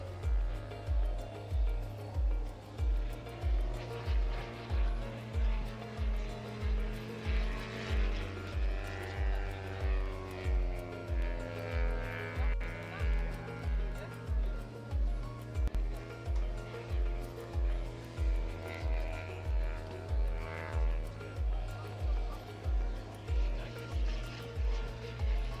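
A Jungmeister aerobatic biplane performs at an air show, its propeller engine droning loudly and steadily throughout with a strong pulsing low rumble and shifting pitch as it manoeuvres overhead.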